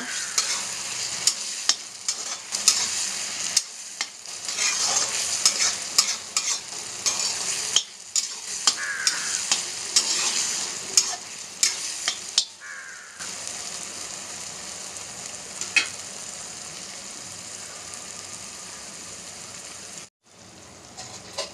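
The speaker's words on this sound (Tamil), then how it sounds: "தக்காளி இந்த பச்சை மிளகாய் நல்லா வதக்கிக்கோங்க" Tomatoes and green chilies sautéing for a chicken gravy, a steady close sizzle with frequent scraping stirs throughout, brief pauses near the middle and a short break near the end, with no talking.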